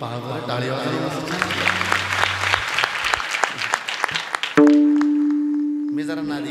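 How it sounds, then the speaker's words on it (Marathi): Audience applause rings out during a kirtan before a large crowd in Sangvi, with many hands clapping continuously over chanted singing and instruments, followed by a sustained harmonium-like tone. "पावर टाळी वाजली."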